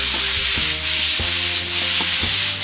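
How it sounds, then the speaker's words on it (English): A brush scrubs hard along tile grout lines, a loud, continuous rasping rub with rhythmic back-and-forth strokes about every half second, close up and with no voices. "as long as you scrub each grout line to this degree"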